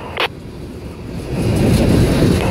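A CSX freight led by a GE CW40-8 and an EMD SD50-3 heads southbound, its deep engine rumble swelling louder and nearer after a brief sharp sound at the start.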